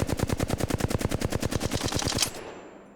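Rapid automatic gunfire from an Apex Legends weapon sprayed at a wall, a fast even stream of loud shots lasting about two seconds that cuts off and leaves a short ringing decay.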